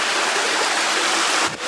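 Water rapids gushing out of a spring inside a cave, a loud steady rushing roar heard close up and continuous, with a brief dip near the end.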